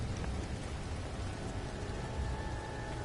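Storm rain in the No Man's Sky video game, a steady, soft hiss of falling rain without a break, with a faint tonal hum running underneath.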